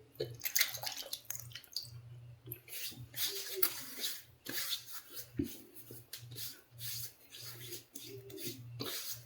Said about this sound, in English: Let's get some water on the face